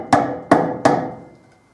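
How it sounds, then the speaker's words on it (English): Three sharp mallet blows land on the bolt heads of a motorcycle sprocket during a wheel bearing replacement, evenly spaced and close, each ringing out briefly before fading. "Mallet, hitting on the bolt heads, not on the sprocket."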